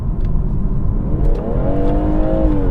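BMW M140i accelerating hard, its engine note climbing steadily in pitch as it pulls, a continuous loud mechanical drone with no talk over it.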